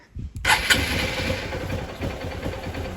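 A Honda XR150L motorcycle engine catches after a brief crank, then settles into a steady, loud idle close by that runs to the end.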